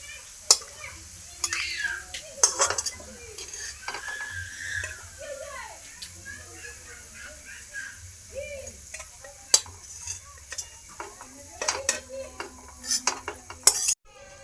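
Clinks of a spatula against a pan as golden fried onions are lifted out for chicken biryani, with a soft oil sizzle underneath and short scattered scrapes, close by in a home kitchen.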